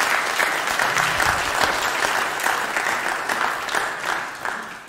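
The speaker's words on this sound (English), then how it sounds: "Let's give them a round of applause" A church congregation claps at an Easter Sunday all-age service, a dense, steady applause from many hands filling the room for about five seconds before tapering off slightly at the end.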